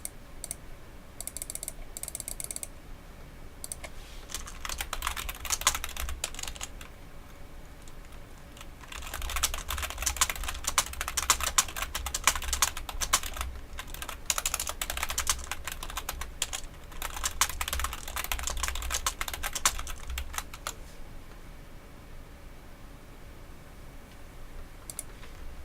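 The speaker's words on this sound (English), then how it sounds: "I'm just typing some messages to Lewis" Fingers type messages on a computer keyboard in long, steady runs of rapid clicking, close by, with brief lulls between bursts.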